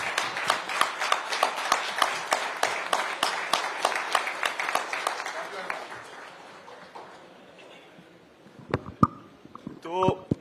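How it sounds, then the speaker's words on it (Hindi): An audience stands and applauds for 36 lakh milk-supplying farmers at an Amul event on the Bharat 24 stage, steady loud clapping that fades over several seconds before a voice speaks. "उन 36 लाख किसानों के लिए हम खड़े होकर जरूर ताली बजाएं"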